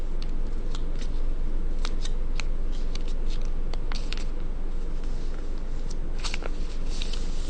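Paper folded into an origami swan gives soft, steady crinkling and scattered sharper creasing snaps, close up and continuous without pause.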